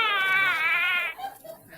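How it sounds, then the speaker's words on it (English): A baby's cry sound effect in a western radio drama: one high, wavering wail lasting about a second, then trailing off into faint, quieter whimpers. "He heard a tiny cry."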